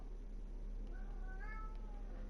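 A cat in the video game Disco Elysium gives one faint, rising meow over a steady low background hum.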